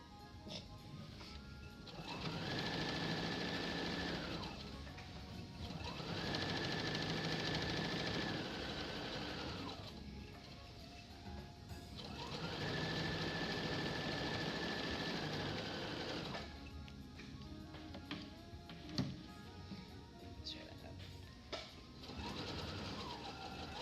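A sewing machine stitching fabric in three long, steady runs of rapid mechanical whirring, each a few seconds long, then lighter scattered clicks and taps near the end, with no one speaking.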